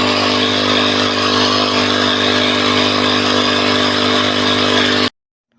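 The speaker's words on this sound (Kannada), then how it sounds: "ಈಗ ನಮ್ಮ ಮೋಟ್ರಿಗೆ ನೀರು ಹಾಕಿ ಪೆಟ್ರೋಲ್ ಹಾಕಿ" A petrol-driven water pump motor runs steadily in a farm field, a loud, continuous droning engine with a sustained hum that holds even for about five seconds, then cuts off abruptly into silence.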